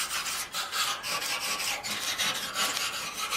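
A wire brush scrubs rust from the casing of an aged air conditioner, a continuous close scratchy rasp in steady back-and-forth strokes with no talking.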